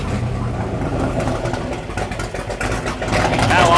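A 1963 Dodge 330 with a Max Wedge engine runs nearby with its exhaust cutouts open, a loud, rough rumble that holds steady and swells toward the end.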